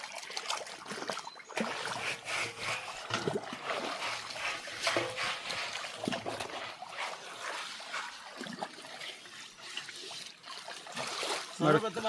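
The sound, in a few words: river water splashing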